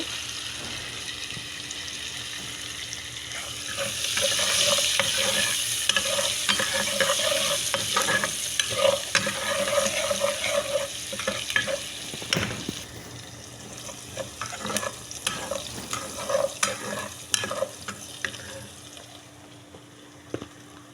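Onion, garlic and green chilies frying in a wok with salt, a moderate sizzle rising after a few seconds, punctuated by spoon scrapes and clatter against the pan, plus a faint steady hum underneath.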